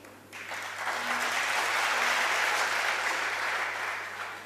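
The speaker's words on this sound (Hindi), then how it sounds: "ताली बजाने का यह समय नहीं है।" An audience at a talk breaks into sustained applause, a dense wash of many clapping hands that swells quickly, holds steady and begins to taper at the end.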